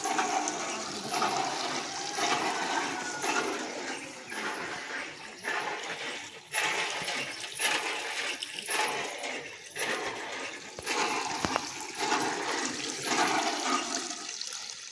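Water gushes from a hand pump in repeated surging bursts, close and fairly loud, with a rhythmic pumping pattern and no voices.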